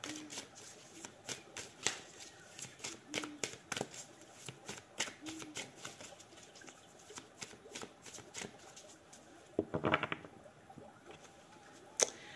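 Tarot cards are handled, shuffled and laid down with repeated short crisp snaps and flicks across a quiet room, one brief louder riffle midway, with no talk.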